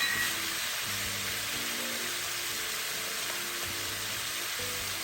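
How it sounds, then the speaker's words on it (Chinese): Pig trotters stir-fried with light and dark soy sauce in a wok, giving a steady, close sizzle with a broad hiss throughout and faint low clatter from stirring. "翻拌炒均匀，猪脚会变得更加红亮油润。"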